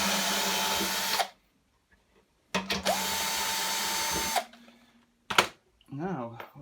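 A power drill whirs in two steady bursts separated by a pause, followed by a short whir and a brief voice, while unbolting parts of a Bosch washing machine.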